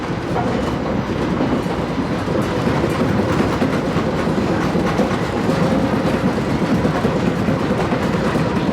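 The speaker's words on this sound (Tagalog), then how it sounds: "Isang train. Yan. Kami na lang sakay." A train carries passengers along the rails, with a loud, steady rumbling roar and a constant rattling clatter inside the carriage throughout.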